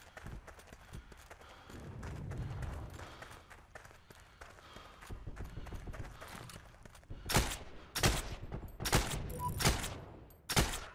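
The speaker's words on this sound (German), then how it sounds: "Zwei Schüsse braucht die Waffe nur, aber ich muss erstmal treffen." Gunfire in the World War II shooter Heroes & Generals, with scattered shots through the first half and then a run of loud, sharp bursts late in the clip over a busy battlefield background.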